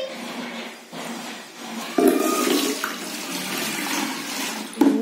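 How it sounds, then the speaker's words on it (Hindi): Water is poured from a mug into a bucket in a couple of splashy bursts, each a loud sloshing gush, set against a low steady background hum. "अब मैं मग से बकेट में पानी डालूंगी।"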